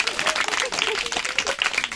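Dense audience applause fills a fancy dress competition, a busy patter of many hands clapping at once with voices mixed in underneath.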